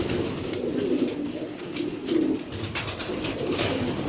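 Pigeons coo in low, throaty rolls in a pigeon loft. The murmuring is continuous and fairly close, with faint chirps and scuffs from the birds around it.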